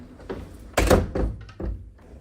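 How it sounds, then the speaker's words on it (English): A door pushed shut indoors with a firm thunk, followed by a couple of softer knocks and rattles as it settles, close and fairly loud with no voices. "You close the door, it makes it private."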